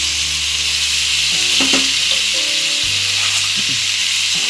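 Ackee being stirred into saltfish frying in a pan, a steady loud sizzle running throughout with soft scrapes and knocks of the spoon, close by and with no talking.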